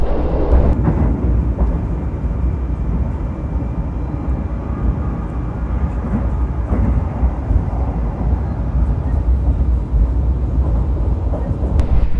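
Interior of the Manahan executive-class passenger train from Solo running along the track, a steady loud low rumble with faint rhythmic clatter and occasional louder bumps, continuous throughout with no talk.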